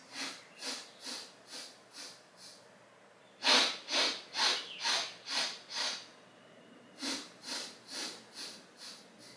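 Slow, rhythmic nasal breaths during a yoga breathing exercise, a steady series of close, soft exhales and inhales repeating evenly, with a louder run of breaths in the middle and no talking.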